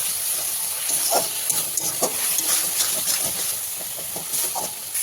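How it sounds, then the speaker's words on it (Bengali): Potatoes frying and being stirred in a pan with turmeric, salt, chili paste and Kashmiri red chili powder for an egg curry, giving a steady close hiss and sizzle with scattered scraping clicks throughout. "আলুগুলো দিয়ে এবার কষাবো"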